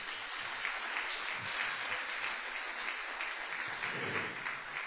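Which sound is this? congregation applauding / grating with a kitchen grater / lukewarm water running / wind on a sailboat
congregation applauding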